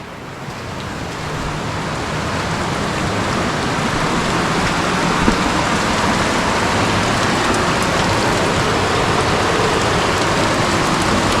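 A creek with strong flow runs beside a hiking trail on the Virgin Falls loop in Tennessee, a steady broadband wash that rises slightly and continues without speech.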